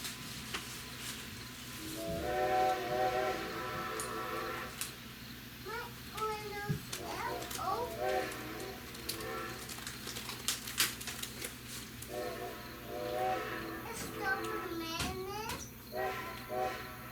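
A Strasburg Railroad steam train's whistle sounds from a distance, with faint repeated answering blasts echoing back, heard from inside a coach over steady rolling rumble and children chattering nearby.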